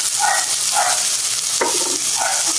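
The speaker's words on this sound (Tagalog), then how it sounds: "Haluin lang po natin." Sautéed anchovies (dilis) with tomato being stirred in a hot pan, a steady sizzle broken by a few scraping strokes of the spoon, close and loud.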